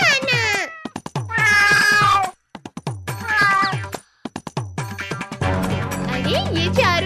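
A cartoon cat in a desi comedy cartoon meows again and again. The drawn-out, loud meows come in separate bursts with short gaps, and a busier mix of sound and music comes in near the end.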